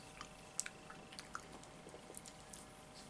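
Someone bites and chews a raspberry chocolate bar with raspberry pieces, giving faint, close crunches and small crisp clicks in a quiet room with no talking.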